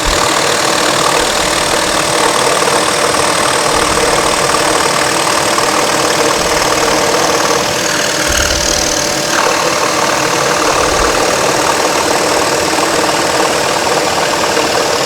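A saw cuts steadily through a wooden workpiece fed at a skewed angle, giving a loud continuous motor hum and grinding with slight dips and surges in load throughout.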